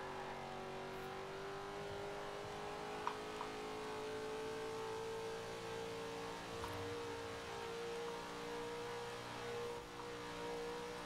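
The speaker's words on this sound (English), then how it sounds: "I hear these engines" Cars in the Forza Horizon 4 racing game roar steadily at sustained throttle, a continuous engine drone with faint pitch shifts and no talking, moderately quiet throughout.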